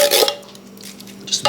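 Chili stirred in a pot, a few close scraping and knocking strokes of a utensil against the pot's side, separated by a brief quiet stretch.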